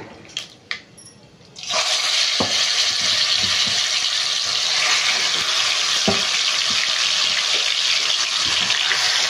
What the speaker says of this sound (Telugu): ఇప్పుడు మనం చికెన్ వేసేసుకుందాము